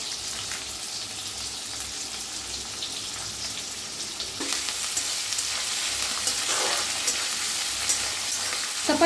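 Sliced onion frying with asafoetida and curry leaves in a pan, a continuous close sizzle that grows louder midway, joined by occasional stirring scrapes and no talk.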